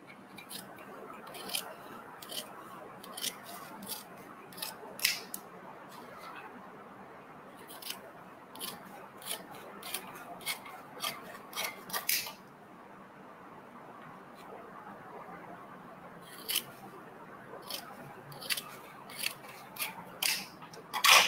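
Scissors cut through sewn fabric pieces along a marked line, with quick crisp snips in irregular bursts separated by short pauses, close and fairly quiet.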